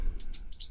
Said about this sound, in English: There's two birds right above me.